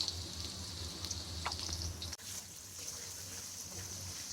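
Onions frying with salt in a pan for a liver bhuna curry produce a quiet, steady sizzle with a low hum beneath it, continuing without speech.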